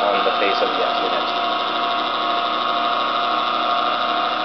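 Two unloaded DC motors in a model train F unit whir steadily at close range, a continuous even hum with a faint buzzing texture that holds constant throughout without pauses.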